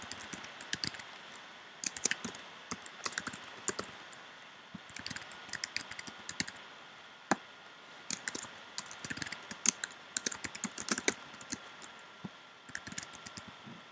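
Close, quick keyboard typing runs in uneven bursts of crisp clicks as information is entered into a website checkout form, with short pauses between keystrokes and no talking.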